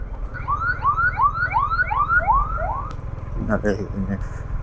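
A loud, close ambulance siren yelps in six rapid rising whoops over a low motorcycle engine rumble, then cuts off, followed by a brief clatter.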